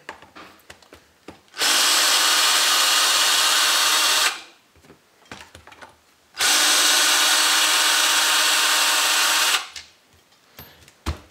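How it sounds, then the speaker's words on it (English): A power drill on a low setting whirs in two steady bursts of about three seconds each, removing screws from a Savage Flux RC car differential, close by, with quiet handling clicks and rustles between them. "I usually like to use my power drill a little quicker"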